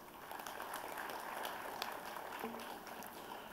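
Steady, faint applause from a large seated audience honoring faculty and staff at a college convocation ceremony, a dense, even wash of clapping heard from a distance with no break.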